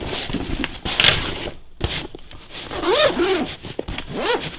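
A zipper being pulled open on an Elite Survival Systems gun transport pack, several quick rasping runs with clicks and fabric rustle between them, close and fairly loud, with no talk.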